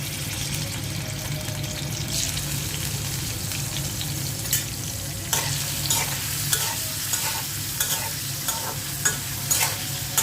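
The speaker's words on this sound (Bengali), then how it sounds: "চিংড়ি মাছগুলো দিয়ে দিচ্ছি।" Prawns frying in hot oil in a wok, a steady close sizzle with scattered clinks and scrapes of stirring, heard alone without talk.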